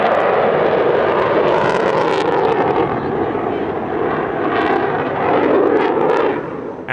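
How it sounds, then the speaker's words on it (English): A Qatar Emiri Air Force F-15QA Ababil fighter jet performs a flying display at the Dubai Airshow, its loud, roaring jet engines surging and fading, with a voice talking over it. "the F-15QA Ababil from the Qatar Emiri Air Force making its first ever"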